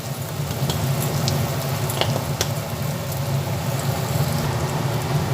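Potato pieces added to hot oil in a pan for a ghugni, a steady close sizzle of frying with faint stirring clicks throughout, no voices.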